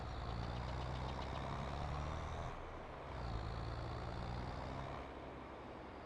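A heavy tractor engine in Farming Simulator 22 drones steadily while hauling a load of hay pellets, a low continuous rumble with a faint high whine above it that dips briefly midway before resuming.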